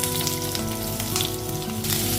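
Chopped onions frying in hot oil in a pan with popped mustard seeds, a loud, steady close sizzle that fills the whole moment without any talk.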